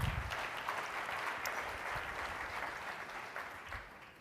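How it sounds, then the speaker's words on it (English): A conference audience at an annual meeting plenary session gives sustained applause, steady clapping from many hands, moderately distant, slowly tapering as it continues. "Let's give them a round of applause."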